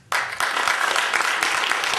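Audience applause at a live stand-up comedy show, a sudden burst of dense clapping from a crowd that starts abruptly and holds steady and loud to the end.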